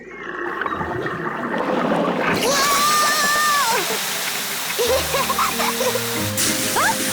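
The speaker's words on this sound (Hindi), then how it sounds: "पेपा ने पाइप पकड़ी और डैडी पिग ने पानी शुरू कर दिया।" Water gushes and splashes from a garden hose in a cartoon scene, a steady loud spray rising suddenly after a quiet start, with whistling and squeaky cartoon sound effects layered over it.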